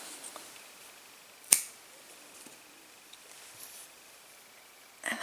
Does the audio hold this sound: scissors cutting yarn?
yes